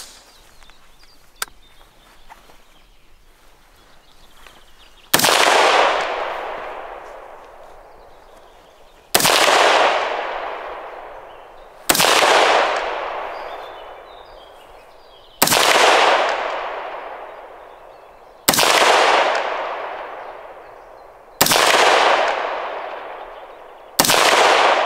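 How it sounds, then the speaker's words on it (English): Seven loud outdoor rifle shots from a SIG 516 fired at a Soviet SSh-40 steel helmet, each a sharp crack with a long decaying echo, spaced a few seconds apart after a quieter stretch. "Trying to get ricochet with SIG 516."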